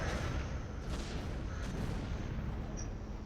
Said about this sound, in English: if meltdown is achieved, the warheads will explode.